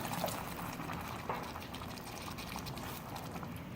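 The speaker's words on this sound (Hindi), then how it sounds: "अब इसमें पानी शामिल करेंगे" Water poured into a hot pan of frying potatoes and minced meat for aloo keema, giving a steady, close hiss and bubbling sizzle throughout with no talking.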